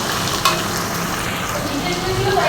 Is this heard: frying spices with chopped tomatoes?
yes